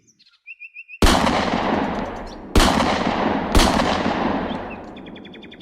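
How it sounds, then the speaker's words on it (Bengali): Three loud, sharp gunshots ring out in a quiet forest after rain, each followed by a long decaying echo, with faint birdsong before and after. "হঠাৎ তিন তিনটি গুলি চলার আওয়াজ হলো"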